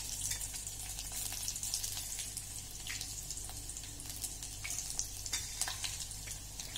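Chopped garlic frying in a hot pan for a green onion and moong dal dish, a steady close sizzle and crackle with small bursts of spattering throughout.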